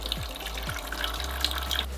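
Purified water from a reverse osmosis water purifier streams steadily into a container, a close, even trickle with small bright splashes and a low hum beneath.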